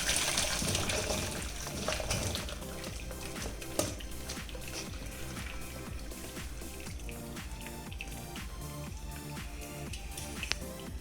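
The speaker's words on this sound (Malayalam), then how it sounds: "ഇനി നമുക്കിതൊന്ന് ഊറ്റി വെക്കാം." Water drained off cut potatoes being prepared for French fries, a quiet trickling, dripping and gushing that runs steadily, with clattering and small knocks all through.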